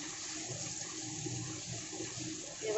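Water poured into a mixer jar in a home kitchen: a soft, continuous trickling stream, faint and unbroken, swelling slightly at the very end.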